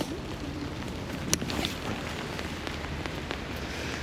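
Steady rain hisses on surfaces outdoors while riding an e-bike through a city on a rainy afternoon, a continuous wash of noise with a few sharper knocks and no talk.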